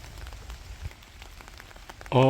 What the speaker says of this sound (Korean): 제가 지금 비가 오는데 찍고 있습니다